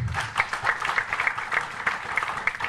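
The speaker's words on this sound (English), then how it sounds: "Big round of applause for that" An audience at an architecture book launch event applauds with dense, steady clapping that continues throughout, fairly loud and sustained.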